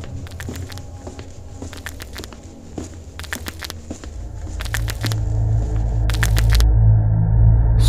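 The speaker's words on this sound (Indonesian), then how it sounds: "suara mengunyah itu terdengar lebih jelas sekarang." Wet, irregular chewing and crunching close to the ear inside a quiet house, with sharp crackly bites in clusters and a low rumble that grows heavier toward the end.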